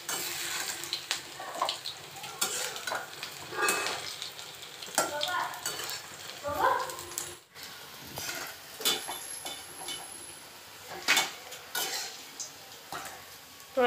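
Onion fritters (pakora) fry in a pan with a steady crackling sizzle, broken by scattered clinks and scrapes of a utensil against the pan, heard up close with no talking.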